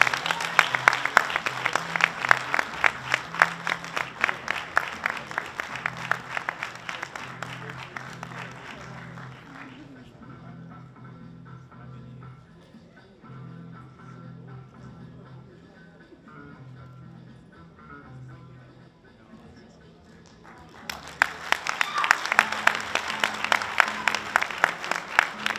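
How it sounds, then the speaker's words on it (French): An audience at the Nuit des lompolo 2025 awards night applauds winners from a theatre association's play, with dense, loud clapping for about ten seconds, a quieter lull of low murmuring, then a fresh burst of applause. "On va les acclamer très fort"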